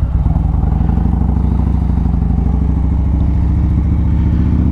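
Harley-Davidson motorcycle fitted with a Rekluse automatic clutch pulls away under light throttle, a loud, close, steady V-twin rumble with a rapid pulsing beat that rises slightly in pitch as it accelerates, with no talking.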